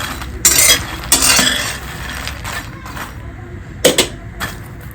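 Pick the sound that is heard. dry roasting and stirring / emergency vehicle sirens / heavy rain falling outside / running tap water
dry roasting and stirring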